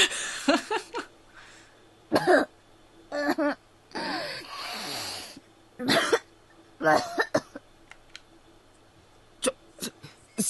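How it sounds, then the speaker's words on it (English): Repeated wet, hacking coughs from a video game character in irregular bursts, close and loud, with short pauses between fits. "This just seemed to make her cough."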